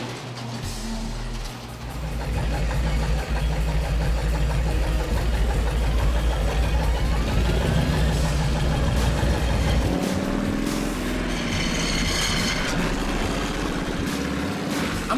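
A vintage Harley-Davidson Panhead motorcycle engine runs steadily and loudly, a deep continuous rumble that swells slightly as it revs, with no talk.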